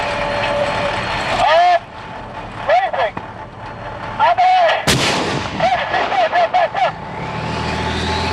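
A tank main gun fires practice ammunition on a live-fire range, with several heavy booming shots spread across the clip amid engine rumble and radio-style voices talking over it.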